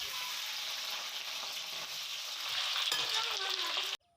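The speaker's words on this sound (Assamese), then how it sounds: "আৰু এতিয়া ইয়াতে প্ৰথমে আলুখিনি অলপমান ফ্ৰাই কৰি ল'ম।" Potato pieces fry in hot oil in a kadai as a pork gravy begins, a dense steady sizzle with a stir partway through, close and loud until it cuts off abruptly.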